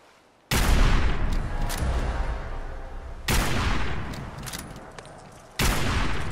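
A Reba 2 weapon fires in the Fallout 4 video game, giving three loud, close bursts of rapid gunfire, each a sustained crackling barrage separated by brief pauses.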